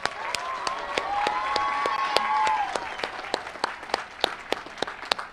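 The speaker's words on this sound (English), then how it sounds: "If we could give them a round of applause." An audience at a high school senior awards ceremony gives a round of applause, dense clapping that swells and holds before thinning into scattered individual claps near the end.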